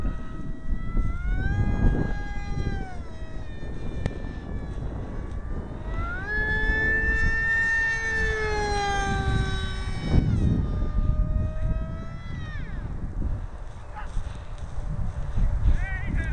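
A small FF-15 RC foam jet whines overhead, its electric motor pitch rising and falling as it passes and circles, with wind and outdoor noise beneath.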